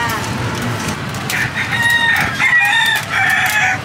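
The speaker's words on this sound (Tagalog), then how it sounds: "May tumitilaok eh." A rooster crows loudly and close by, its long cock-a-doodle-doo rising and stretching over a low background rumble.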